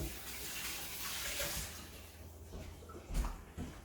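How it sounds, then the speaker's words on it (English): Tap water runs in a kitchen sink as hands are washed during cooking of a cheesy bacon potato bake, a steady faint hiss with brief louder splashes near the end and no talking. "Just wash my hands."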